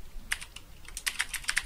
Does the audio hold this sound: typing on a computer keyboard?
yes